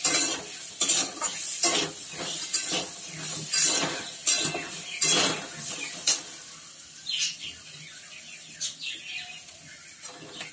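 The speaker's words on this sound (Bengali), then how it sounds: "আদা, এটাকে মশলার সাথে কষিয়ে নিই।" Ginger being stir-fried with spices in a pan, a steady sizzle with repeated scraping and stirring strokes of a utensil against the pan, close and fairly loud throughout, with the frying settling into a softer hiss toward the end.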